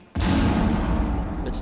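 Frag grenade going off in Rainbow Six, a sudden heavy boom after a short quiet moment, followed by a loud roaring rumble that holds for over a second.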